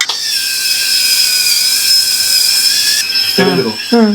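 A small electric scrub brush whirs with a steady, high-pitched whine as it scrubs a kitchen sink corner with dish-wash liquid, then a voice briefly speaks near the end.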